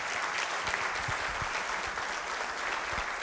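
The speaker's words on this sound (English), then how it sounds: "How about a big round of applause for that special group?" A seated audience at a seniors awards ceremony breaks into sustained applause, a thick, continuous wash of many hands clapping at close range, holding steady throughout with no voices over it.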